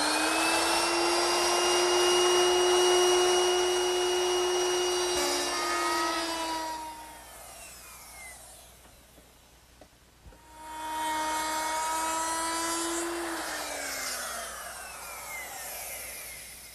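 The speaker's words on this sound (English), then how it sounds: "I'll make that beveled rabbet using a 22-degree beveling bit." A router fitted with a 22-degree beveling bit cuts a beveled rabbet along wood, a loud steady high whine with strong harmonics, easing off midway as the cut pauses, then returning for a second pass that winds down.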